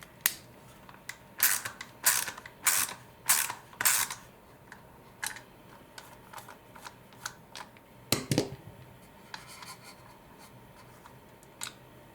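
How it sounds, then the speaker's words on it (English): Small Torx screws on the sides of the white trigger cover of a Dyson V10/V11 vacuum loosened with a Torx 8 bit, giving close, crisp clicking and ratcheting bursts in quick clusters, then a few scattered lighter clicks. "Now we'll need to remove 2 screws on the sides of the white cover."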